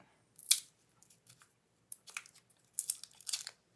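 Knife slicing through the paper wrapper of a wax crayon, heard as several short, close crisp tearing and crinkling bursts separated by brief pauses, with no talking.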